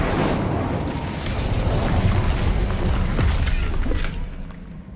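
Fiery magical spell blasts and crackling bursts from the Incendio fire spell in the Hogwarts Legacy video game, a dense, continuous roar of booms and pops with no talking.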